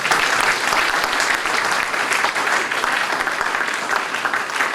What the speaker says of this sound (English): if you don't think she deserves another round of applause